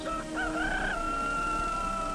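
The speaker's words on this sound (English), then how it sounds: "A rooster crows." A rooster crows once at dawn, a clear drawn-out cock-a-doodle-doo heard fairly close over a faint, steady background hum, then fading into quiet.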